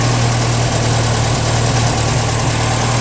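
A car engine idles steadily and loudly with a deep, constant rumble and a slight throaty vibration, running without pause.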